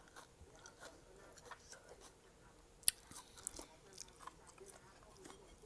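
Close-up biting and chewing of a spicy cucumber salad with fresh shrimp and dried chili, with soft crunchy bites and a sharp snap near the middle, quiet and intimate, with no talking.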